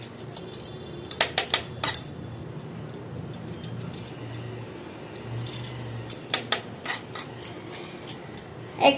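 Small potatoes are cut with a kitchen knife on a board, giving a few quick clusters of sharp taps and scrapes separated by quiet stretches of faint room hiss, close and fairly soft.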